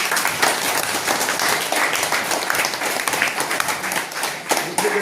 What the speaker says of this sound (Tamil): எல்லாரும் வாழ்த்து சொல்லி ஒரு கைத்தட்டி கொடுக்கலாமா?